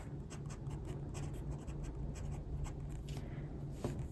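An Esterbrook Estie fountain pen with a number 6 nib scratches across paper in short, quiet strokes, a soft steady scratching close by with no talking.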